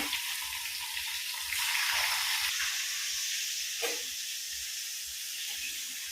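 Food frying in hot oil gives a steady, close sizzle and hiss that swells briefly partway through, with no talking.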